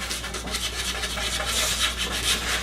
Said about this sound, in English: That's going to require a bit of sanding.